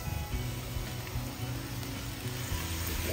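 Tofu sizzling in a hot pan for mapo tofu with chicken, a steady close frying hiss with faint stirring, no talk.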